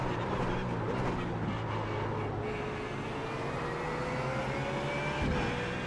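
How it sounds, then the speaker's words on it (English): A BMW Z4 GT3 race car in iRacing drives at Watkins Glen, its engine droning steadily with a slowly rising rev pitch and faint bumps over a rough stretch, continuous and unbroken. "Hear the car bumping a lot, the revs rising."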